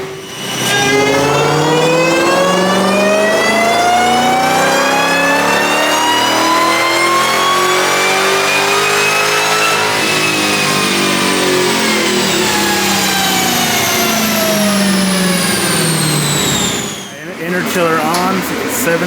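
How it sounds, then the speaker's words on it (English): A Dodge Demon engine making over 900 rear-wheel horsepower on a dyno in 6th gear, running a long, loud, climbing rev with rising harmonics that peaks, then a sharp drop and a burbling lift-off near the end. "do another pull in 6th gear"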